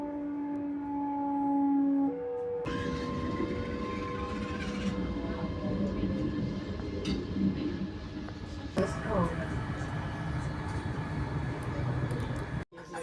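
Inside a Hitachi AT200 Class 385 train running between Glasgow and Edinburgh, a steady rumble of running gear and cabin hum carries throughout, with tonal motor whine early on and shifts in the noise as the train moves.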